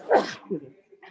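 A single sharp human sneeze bursts out close by at the start, followed by a brief quieter voice murmuring afterward.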